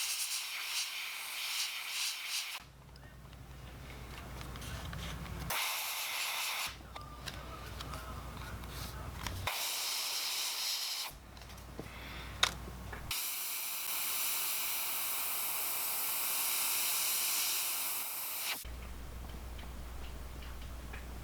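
Airbrush spraying white paint onto a crankbait lure, a steady airy hiss in several bursts that start and stop abruptly, with a mid-length stretch of continuous spraying and no talking.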